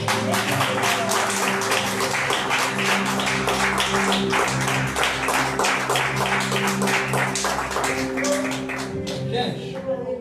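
A church congregation at a Sunday service claps for several seconds over sustained keyboard chords, with many dense, fairly loud claps before the sound thins out near the end.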